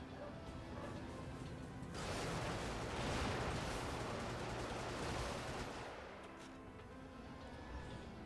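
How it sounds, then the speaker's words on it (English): Dense, chaotic burst of video-game gunfire and barking dogs swells loud for several seconds in the middle, then eases back into a quieter busy background; no talk is heard. "this cacophony of gunfire and dog barks"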